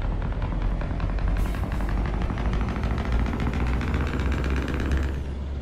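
A heavy truck engine from a sound mod in Euro Truck Simulator rumbles loudly and close, its deep throbbing pulses building as it accelerates, with no talk over it.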